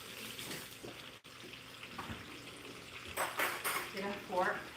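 Tap water runs into a kitchen sink as hands are washed, a soft, faint splashing stream with a brief break and some mixed kitchen noise; a person speaks over it.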